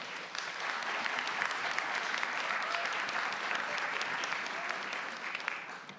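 Sustained applause from an audience at a city council meeting, dense clapping that carries on steadily for several seconds at a moderate level.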